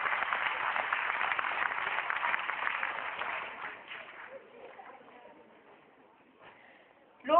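Steady applause from a school audience welcoming children fills the first few seconds, then fades into scattered claps and murmuring.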